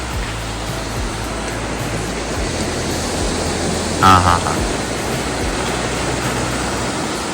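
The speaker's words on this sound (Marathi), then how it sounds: "हे समुद्राच्या लाटांचा आवाज ऐकूनच मनाला शांत वाटते" Sea waves washing onto Kashid beach in the Konkan at high tide, a loud continuous roar of surf up close, with a brief voice cutting in midway.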